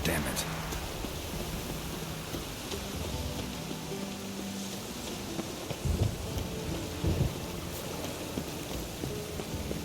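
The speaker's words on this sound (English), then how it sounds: "The storm, damn it." Heavy rain and a thunderstorm in The Witcher 3: Wild Hunt, a dense constant downpour with low rumbles of thunder swelling near the middle and end.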